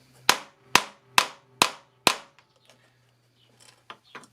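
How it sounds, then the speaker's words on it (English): Five sharp, evenly spaced hammer taps drive a brass insert into plastic on a hard surface, crisp and close, followed by a few faint handling clicks. "with a suitable size hammer, give it a smart tap"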